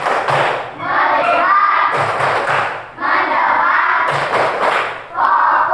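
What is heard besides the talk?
class doing 'tepuk fokus' rhythmic clapping routine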